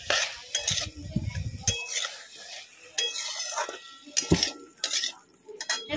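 A utensil stirs onions and soybean frying in a pan, with scraping and metallic clinks in irregular bursts over a soft sizzle, heard close up.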